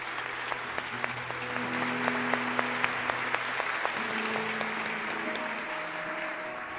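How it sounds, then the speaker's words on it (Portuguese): A church congregation applauds at Mass after the Gospel reading, a steady wash of clapping across the whole stretch with sharp individual claps standing out and a little sung or spoken tone underneath. "Aplaudamos a palavra de Deus com muita alegria."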